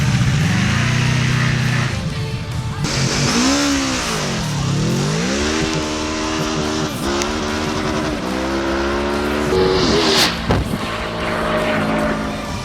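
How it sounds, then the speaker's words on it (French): A Kawasaki ZZR 1400 sport motorcycle pulls hard through a 400 m drag race, its engine note climbing and shifting pitch in loud sustained sweeps with brief dips between gears, no talk over it. "la ZZR 1400 fait ensuite parler la poudre grâce à sa puissance et son allonge phénoménale et rattrape tout le monde"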